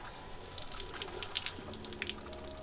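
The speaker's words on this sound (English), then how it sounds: "Fires up, and we have hot water, just like that." Hot water runs from an RV tap fed by a Truma AquaGo propane on-demand water heater, a soft, steady splashing stream with faint gurgles, quiet and close.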